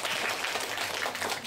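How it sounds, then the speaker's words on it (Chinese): Audience applauding at a science magic show, a dense burst of clapping lasting under two seconds, close and steady. "请各位再一次给自己和家人和朋友掌声鼓下吧"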